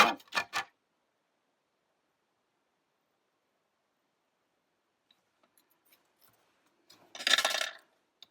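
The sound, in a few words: cutting out a card inlay piece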